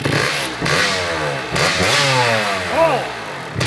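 Barn-find Kawasaki KX80 two-stroke dirt bike engine revving in short rising and falling bursts, close and raspy with rattling clatter between throttle blips.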